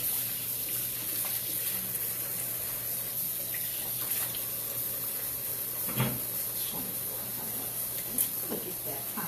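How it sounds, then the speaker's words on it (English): Water runs steadily from a kitchen tap as a hand is rinsed, a continuous hiss with a few brief splashes and knocks, with faint speech in the background. "I'm going to rinse my hand"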